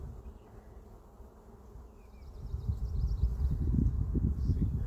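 Honeybees buzz steadily around an opened beehive, a continuous dense hum that grows louder and nearer midway, with no voices.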